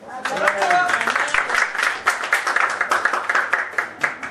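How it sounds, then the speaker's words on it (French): Wedding guests in a Paris reception hall applaud the couple, a steady, fairly close round of clapping that holds throughout with rhythmic peaks. "On les applaudit."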